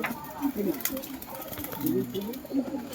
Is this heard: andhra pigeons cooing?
yes